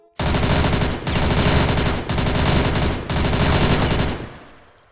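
Loud submachine gun fire rips out in four sustained bursts, each about a second long and separated by tiny gaps, before fading into a trailing echo.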